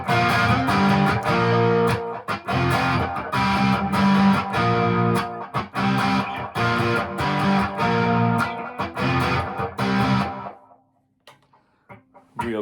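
Distorted electric guitar, a Flying V kit build, plays a rhythmic, chugging riff with sharp attacks for about ten seconds, then stops, leaving near silence with a faint lingering note.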